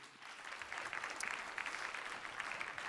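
Audience clapping after a conference session, a soft, continuous patter of many hands at moderate distance, steady and fairly quiet for its short length.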